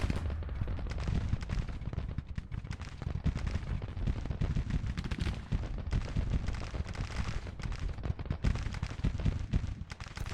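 Civil War cannons and musketry in Grand Tactician: The Civil War, a dense, continuous rumble of overlapping booms and crackling shots at a distance, irregular bursts throughout with no pauses.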